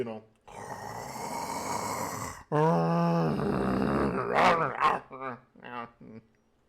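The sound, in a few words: voice imitating very loud snoring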